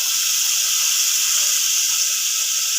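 Tomatoes hitting frying onions in a hot pan give a steady, loud, broadband sizzle that holds evenly throughout with no talk.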